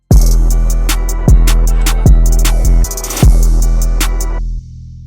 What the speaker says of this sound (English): And this is the open hat pattern.